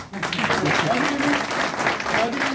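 Office staff applauding at a New Year event in the DUCKU office, brisk close clapping from a small group that carries on steadily while people talk over it.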